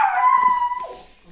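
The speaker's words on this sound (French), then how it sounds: "Désolé, c'était mon chien." A household dog lets out a single short howl, loud and close, rising then sliding down and fading within about a second.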